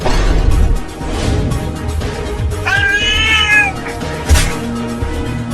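A cat lets out a drawn-out, wavering yowl amid scuffling and rustling noise, followed by a sharp thump.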